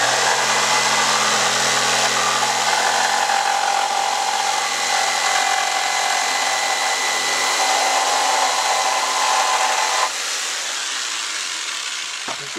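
Bandsaw cutting through a pine board for an antler mount, a loud steady whine and buzz running without a break for about ten seconds, then dropping to a quieter idle hum as the cut finishes.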